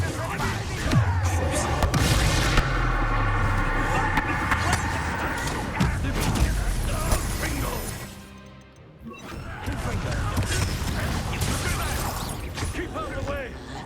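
A Bombarda explosion spell in Hogwarts Legacy bursts loudly in a dense mix of crashes, thuds and battle noise, with a brief lull before the busy, cluttered din resumes.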